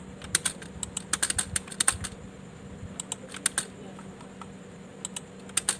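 Computer keyboard typing during thesis document editing, quick clusters of close, crisp keystrokes with short pauses, a few sharper taps like the enter key, over a quiet room hum.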